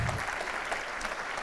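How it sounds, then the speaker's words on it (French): Audience at a real-estate entrepreneurship keynote claps steadily for about a second and a half, a dense, even patter of many hands filling the hall at moderate level. "Donc on applaudit."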